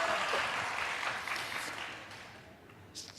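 A church congregation applauding during a late-night worship service, a broad wash of clapping that fades gradually over a few seconds, with no talking.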